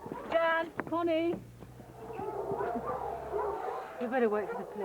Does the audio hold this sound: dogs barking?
yes